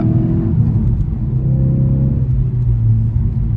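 A Ford Focus RS/ST with a new rear torque mount, driven on a foggy road, its engine droning steadily and rising in pitch as it accelerates through the gears, close and loud from inside the cabin.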